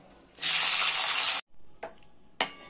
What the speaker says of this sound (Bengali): উচ্ছেগুলোকেও এরকম বীজটা ছাড়িয়ে আমি এইভাবে কেটে রেখেছি। এগুলো এখন এর মধ্যে দিয়ে ভেজে তুলে রাখবো।